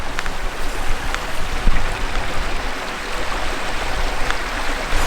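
River water rushes steadily through a stone and metal sluice and weir on the Cowsic River at Devonport Leat, a constant broadband wash at moderate level with no talk.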